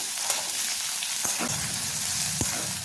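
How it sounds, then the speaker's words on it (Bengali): Steady crackling sizzle of potatoes and radish frying in hot oil, continuous and close, with a couple of brief scraping stirs. "এগুলো আমি আগে দিয়ে একটু ভালো করে কিছুক্ষণ লাল লাল করে একটু ভাজা ভাজা করে নেব"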